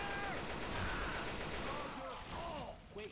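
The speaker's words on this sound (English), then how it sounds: "Quit shooting me." Rapid bursts of gunfire in Left 4 Dead 2 versus mode rattle continuously at moderate loudness under players' voices.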